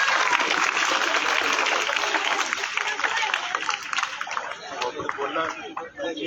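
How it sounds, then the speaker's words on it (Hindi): A school audience applauds loudly to welcome a guest, a dense, sustained wash of clapping mixed with crowd voices that thins toward the end. "जोरदार तालियां से एक बार स्वागत सर का।"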